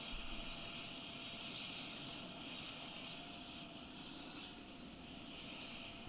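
A Lufthansa Airbus A350 airliner at an airport, heard as a steady, broad engine roar and whine that holds even and unbroken throughout.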